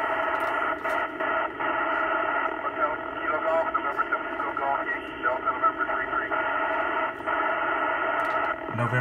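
Amateur FM satellite contact received on an Icom 9700 transceiver, a continuous band-limited radio signal with voices coming through the speaker, hiss underneath and brief crackles and dropouts.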